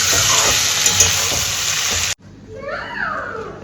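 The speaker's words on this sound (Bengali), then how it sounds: "চিকেন যেরকম করে কষাই একদম ওরকম ভাবেই কষাবো" Food sautés loudly in a pan over a high gas flame, giving a dense, close, hissing sizzle for about two seconds before it cuts abruptly to a quieter, different sound.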